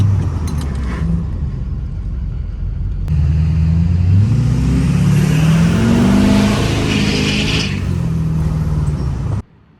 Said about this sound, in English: we'll do our second stop right here. This will be our third brake test.